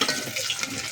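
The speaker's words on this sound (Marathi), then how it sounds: "कांदा भाजून घ्यायचा." Onion frying in a pan gives a steady, close sizzle with bright crackling spread across the whole second, broken by small pops and stirring scrapes. Nobody speaks.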